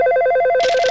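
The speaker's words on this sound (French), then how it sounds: "Le téléphone sonne." A telephone ringing loudly and close, a rapid warbling electronic trill with a burst of brighter ringing toward the end, alone.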